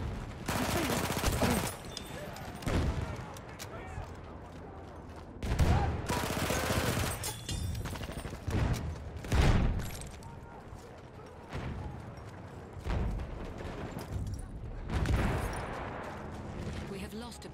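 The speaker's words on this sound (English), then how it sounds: "There's an enemy machine gun!" Enemy machine gun fire in the Battlefield 1 video game, loud close bursts and fusillades coming in irregular clusters, mixed with other battle noise and shouted voices.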